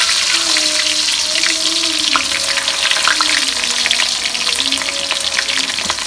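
Hot oil frying in a pan while cooking a jackfruit curry, a dense continuous sizzle and crackle with occasional stirring scrapes, close and steady throughout.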